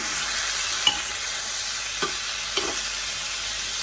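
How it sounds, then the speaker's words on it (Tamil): Tomatoes are stirred into potatoes frying in a pan, producing a steady bright sizzle with three soft knocks of the spoon against the pan. "இப்போ நான் தக்காளி பழம் போடுறேன். தக்காளி பழம் போட்டு மிக்ஸ் பண்ணிக்கிட்டு"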